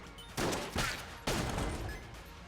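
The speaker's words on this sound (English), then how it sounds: "There's my particulator shot." Particulator gun shots in Enter the Gungeon, three loud bursts of rapid crackling fire in quick succession over steady game background noise.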